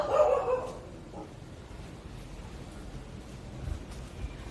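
An alley dog in Vietnam gives one short bark near the start, followed by quieter outdoor background noise and faint movement.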